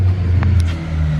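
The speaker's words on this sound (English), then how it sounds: "That is an S2000." A Honda S2000 sports car drives by close, its engine a loud steady drone that swells slightly as it passes, heard alone with no talking.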